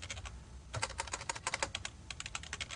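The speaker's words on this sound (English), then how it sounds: "And then we're also going to type message" Quick typing on a computer keyboard, a close, fast run of light key clicks with one short pause, with no voice.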